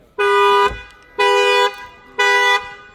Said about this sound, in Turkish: Kapıyı açtığım anda kilitli kapılara duyarlı hırsızlık alarmı devreye giriyor